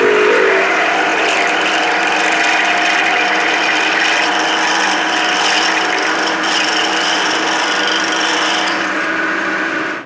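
A drill bores all the way through a motor mount part for a rocket-powered R/C car, a loud, steady grinding rasp of cutting that continues without a break and fades at the end.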